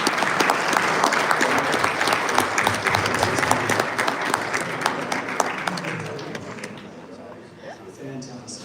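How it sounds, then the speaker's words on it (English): A live audience at a Creality product launch applauds loudly and steadily, the clapping fading out over the last couple of seconds as a voice speaks. "To have you join us in giving these gentlemen a very big round of applause."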